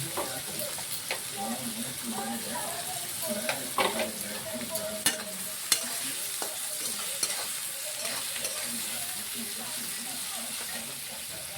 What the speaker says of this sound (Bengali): পেঁয়াজটা আমরা হালকা লাল করে ভেজে নেব।